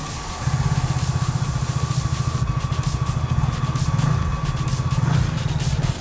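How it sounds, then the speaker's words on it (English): A Yamaha motorcycle starts on the self-start button and falls into a steady idle, its low, regular engine pulses close and continuous under a faint hiss. "Push the self-start button and check for smooth starting and battery condition."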